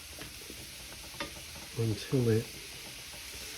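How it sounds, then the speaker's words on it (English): Eggplant pan frying with a steady, close sizzle and occasional stirring scrapes, while a voice speaks briefly over it. "now, I'm just going to pan fry this eggplant"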